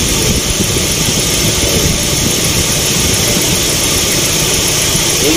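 A Nissan pickup engine idles steadily right after its distributor timing has been set, a loud, close, continuous drone with even low-end pulsing and no voices over it.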